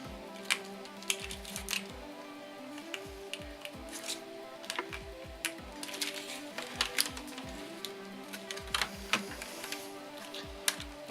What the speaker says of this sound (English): So now it's just reassembly.